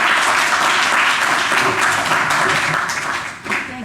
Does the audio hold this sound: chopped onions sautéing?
no